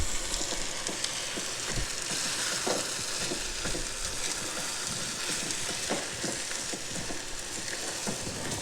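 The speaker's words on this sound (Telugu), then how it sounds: "దీన్ని ఒకసారి బాగా మిక్స్ చేద్దాం" Salt and chili powder are stirred into ridge gourd curry in a pan: a soft, continuous sizzle with irregular spoon scrapes and taps, close by and without talk.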